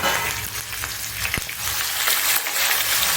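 Capsicum frying in hot oil with asafoetida and turmeric for a Kathiyawadi chickpea-flour capsicum dish, giving a steady close sizzle throughout with one brief sharp knock partway through.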